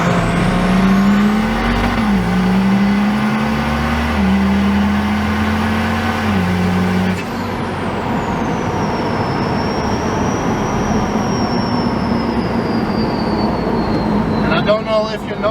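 A Nissan Patrol Y60 fitted with a BMW M57 diesel engine and an 8HP gearbox drives in manual mode, its engine drone stepping through several downshifts under road noise while someone talks over it.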